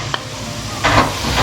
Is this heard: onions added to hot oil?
yes